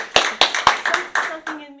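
Six sharp, evenly spaced claps ring out close by, a small, quick round of hand clapping that fades after the last strike.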